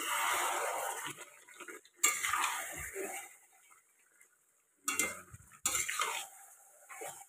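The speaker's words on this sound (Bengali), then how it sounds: "আলু দেওয়ার পর আমি আর একটু নাড়াচাড়া করে আবার ঢাকা দিয়ে দেব" A spoon stirring and scraping chicken curry with fried potatoes in a pot, close metallic clatter and scraping in several bursts separated by short quiet gaps.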